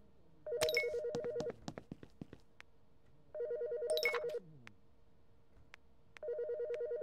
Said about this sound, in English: Oh, somebody's calling me.